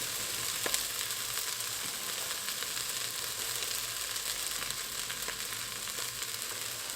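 Onions frying in a pan with mixed herbs, salt and pepper added, a steady soft sizzle and crackle with occasional small pops, no voices.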